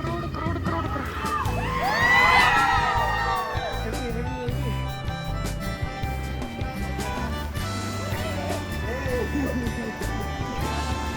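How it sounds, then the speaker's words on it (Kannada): A street crowd celebrating an RCB win in Gandhi Bazaar cheers and shouts, with whoops and yells rising early, then continuing as a noisy, busy mix of voices close by. "ಪೂರ ಕ್ರೌಡ್"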